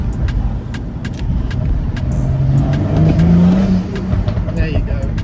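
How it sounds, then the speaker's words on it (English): BMW M135i with a BMS intake accelerating hard, the engine rising in a loud rev with a brief turbo whistle and blow-off around the middle, heard from the cabin. "just gonna go try and get some turbo noises for you"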